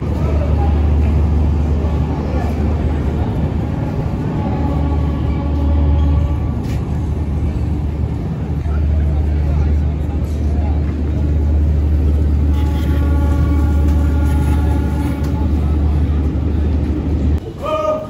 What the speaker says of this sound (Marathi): तर फायनली मंडळी आपली ट्रेन निघालेली आहे, डिपार्चर झालाय.